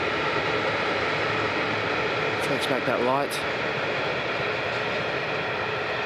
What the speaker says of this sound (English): It looks like some kind of metro train.